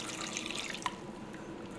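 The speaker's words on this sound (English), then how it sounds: "I'm going to actually add a little bit of water in there" Water poured into a hot cooking pan with garlic for steaming gives soft trickling and dripping, a faint close splash with a few brief distinct drips.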